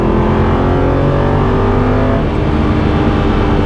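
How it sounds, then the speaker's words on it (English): Aston Martin V8 Vantage with a manual gearbox and a naturally aspirated V8, loud and near with a steady sustained engine drone whose pitch shifts slightly partway through, no voices. "After all, the naturally aspirated V8 that we have here"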